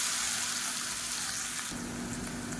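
Finely chopped onions hitting hot oil for an egg masala curry, a dense continuous sizzle that swells louder partway through, close and steady with no voices.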